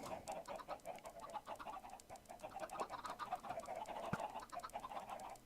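Minecraft chickens clucking and cooing in a busy game farm with hoppers, a steady chorus of short overlapping bird calls running throughout at moderate volume, no talk.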